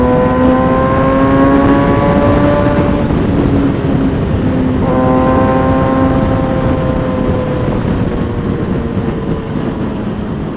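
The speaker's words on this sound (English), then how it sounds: "hopefully you guys can actually hear me over the exhaust. This M4 is loud." Kawasaki ZX6-R 636 motorcycle exhaust droning loudly and steadily close by, its revs rising and falling twice over the ride with no talk.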